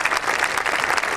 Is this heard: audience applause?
yes